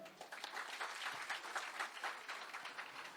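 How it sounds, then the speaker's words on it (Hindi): Crowd applause at a public event in Bijapur, India: a sustained, fairly faint patter of many hands clapping with gentle swells, heard alone without speech. "जिसके लिए आप लोग जोर से तालियां बजाएं"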